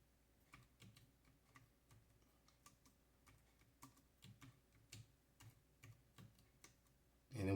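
Someone types on a computer keyboard, with soft, irregular clusters of key taps at close range in a quiet room, ending in a sudden loud thump.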